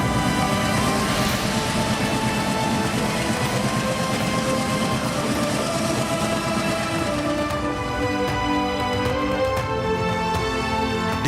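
Vistadome Express luxury train pulling away on its run toward Tinsukia, Assam, a loud steady rumble of rolling wheels and carriages with rising clatter and tonal rail squeal toward the end, no voices.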